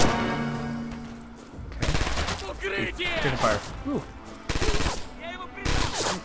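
Rapid, loud bursts of automatic and rifle fire in the World War II shooter Red Orchestra 2, with sharp shot clusters spaced through the clip and several voices shouting between and over the shooting.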